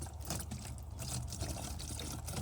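Water pours steadily into a bottle, a close gurgling splash that carries on without a break for a couple of seconds.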